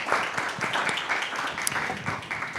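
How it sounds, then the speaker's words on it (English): Conference attendees give a modest round of applause for the panelists, a light, scattered clapping from a small audience that runs briefly for a couple of seconds at moderate level. "I think a small round of applause"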